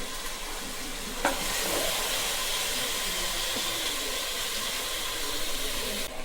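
Marinated chicken pieces go into a pot for chicken biryani, setting off a loud, steady sizzle that runs throughout, with a brief clatter early on.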